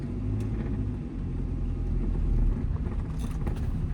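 A car engine revs lightly during slow reversing practice, a close low rumble that swells gently midway and then settles back, with no talk over it.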